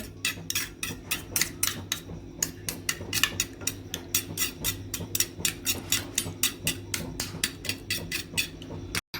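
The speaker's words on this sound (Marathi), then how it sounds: "आता मी ह्याच्यामध्ये मीठ आणि चटणी टाकलेली आहे आता मी हे सगळं मिक्स करून घेते" Egg being beaten with salt and chutney for an omelette: a fast, even run of sharp utensil clicks against the bowl, close and steady all the way through.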